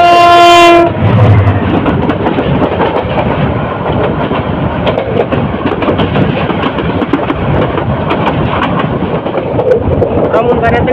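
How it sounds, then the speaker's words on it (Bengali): Titas Commuter train, bound for Dhaka from Brahmanbaria, crossing close by: a loud horn blast opens, then a steady roar of wagons rushing past with rattling clatter for the rest of the passage. "ব্রাহ্মণবাড়িয়া থেকে ছেড়ে আসা ঢাকা অভিমুখী তিতাস কমিউটার ট্রেনটি ক্রস করে গেছে।"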